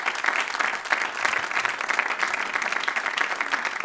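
A church congregation applauds during a sermon, dense steady clapping filling the room throughout, with a few indistinct voices and cheers mixed in.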